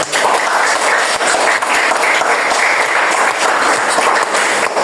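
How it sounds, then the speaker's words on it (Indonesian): Audience in a classroom presentation session gives sustained, loud, dense applause from start to finish, continuous crowd clapping with no voices on top. "Oke, tepuk tangan."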